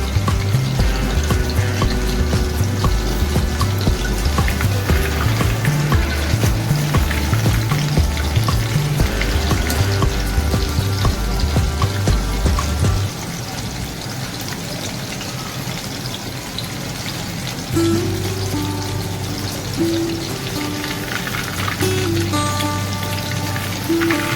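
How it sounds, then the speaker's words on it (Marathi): Chicken pakoda deep-frying in hot oil on a medium gas flame, a bright continuous bubbling crackle like rain, joined for the first half by a loud rhythmic low thumping beat, with no talking. "तर हे सगळं मिडियम गॅसवर फ्राय करून घ्यायचे तळून घ्यायचे"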